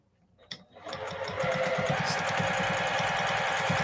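A sewing machine stitches binding onto a fabric plate mat, starting with a soft click then a fast, steady mechanical whir and rhythmic needle thumping, close and continuous.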